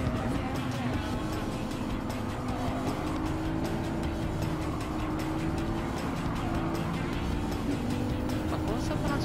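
A race car engine in Gran Turismo 7 drones steadily throughout, revving and shifting pitch as the car drives on, loud and continuous under someone talking.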